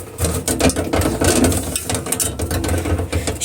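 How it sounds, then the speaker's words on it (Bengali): Stone grinding on a shil-pata, the flat Bangladeshi grinding slab, working soaked boiled beef brain: a steady, close scraping and knocking rhythm of the hand stone rolling back and forth, with no talk over it. "শিলপাটার মধ্যে বেটে নিব।"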